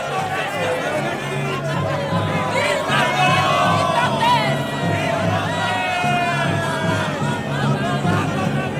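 Dense crowd chatter and overlapping voices fill a busy gathering, a steady near hubbub with occasional raised calls, people talking throughout.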